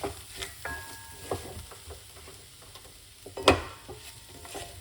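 A spoon stirs a lentil couscous mix seasoned with Cajun spice in a pan, giving close scraping strokes and clinks over a soft, steady sizzle of frying.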